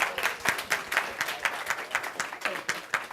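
Scattered clapping from a small seminar audience at a medical practice event, a modest ripple of individual claps that rises and falls irregularly over a few seconds, fairly close and light.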